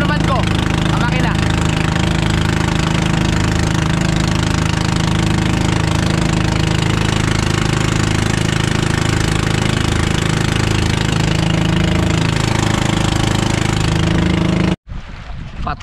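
A boat engine drones loudly and continuously at sea, a steady close mechanical rumble with knocking texture, cutting out abruptly near the end, leaving a short burst of quieter sound.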